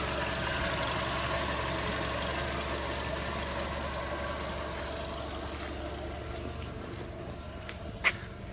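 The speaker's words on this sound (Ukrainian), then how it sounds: "Тихенько працює двигун" A 2007 Volkswagen Golf Plus 1.6 MPI engine idles steadily and quietly, a low even rumble with a brief faint click near the end.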